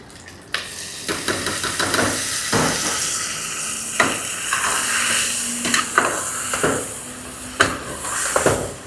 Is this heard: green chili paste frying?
yes